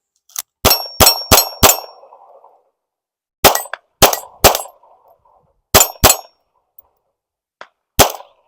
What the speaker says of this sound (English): Let's take some more shots with this gun.